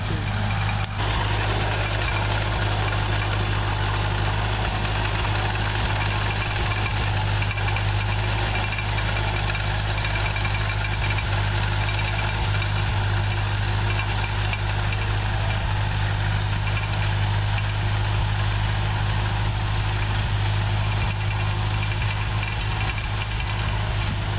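A tractor engine idles steadily near the microphone, a low, constant rumble with a faint knocking texture that holds without pause for the whole stretch, no voices over it.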